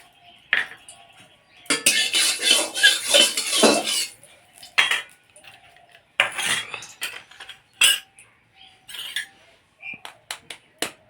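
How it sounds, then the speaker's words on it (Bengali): An egg is beaten in a bowl, a fork or spoon clattering against the sides in quick irregular bursts of metallic clicks and taps, loud and close, with short pauses between flurries. "একটা ডিম ফেটিয়ে দিচ্ছি।"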